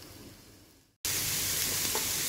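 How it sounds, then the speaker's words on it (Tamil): Onions sizzle and fry in hot oil in a pan while being sautéed for pumpkin soup, a steady close hiss that cuts out briefly and then comes back louder and fuller, with no talking. "நம்ம எடுத்து வச்சுருக்க பெரிய வெங்காயத்தையும் நல்லா வதக்கிக்கலாங்க"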